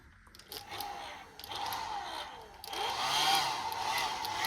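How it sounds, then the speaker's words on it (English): A hotel room hairdryer at a Premier Inn in Newmarket whirs with a rushing airflow hum, starting and stopping briefly, then running louder and steadier up close. "And a hairdryer."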